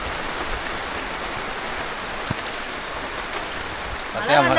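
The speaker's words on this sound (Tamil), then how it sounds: "மறுபடியும் மழை நின்றுக்கிட்டு இருந்த மழை வந்துக்கிட்டு இருக்கு" Steady rain pours in a Western Ghats mountain forest, an even dense hiss of drops on leaves and ground, close and continuous, with a brief louder splash at the end.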